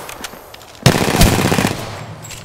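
Automatic weapon fire in the video game Apex Legends: a few faint shots, then a loud sustained burst of rapid gunfire lasting about a second before it tails off.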